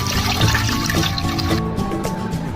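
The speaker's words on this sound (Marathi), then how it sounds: "पाणी भरून घेऊया." Water runs into a container at close range, a steady rushing pour that stays fairly loud and even for a couple of seconds with no voices.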